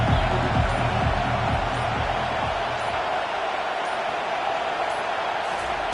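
A football stadium crowd roars on third and long, a dense, sustained wall of cheering and noise that holds steady without a break, heard from within the stands.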